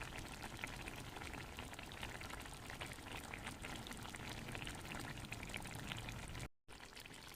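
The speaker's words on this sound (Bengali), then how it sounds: "উপর থেকে একটু সর্ষের তেল দিয়ে দেবো" Mustard oil drizzled over egg posto in a pan with slit green chillies sets off a loud, continuous hiss and sizzle that runs unbroken, with a brief dropout near the end.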